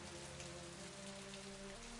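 Light drizzle falls in the video game And Then There Were None as a steady, soft, even patter of rain with faint low tonal hums underneath, heard alone without voices.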